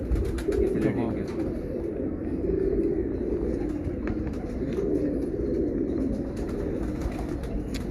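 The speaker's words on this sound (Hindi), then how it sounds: "ਇਹ ਕਬੂਤਰ ਕਰਾਚੀ ਚ ਉੱਡ ਰਹੇ ਨੇ ਹੁਣ" Pigeons coo repeatedly in low, rolling calls amid wing flutters on a rooftop in Karachi, a close and steady chorus over faint background noise.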